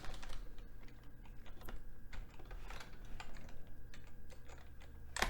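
Steady, close computer keyboard typing, a run of quick keystrokes with short pauses, as someone enters a file path, with no talking.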